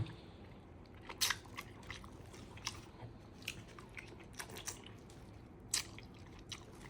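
Someone eating tender, slow-cooked pork bone up close, with soft wet sucking, squishing and chewing and a few sharp smacking clicks over a quiet background.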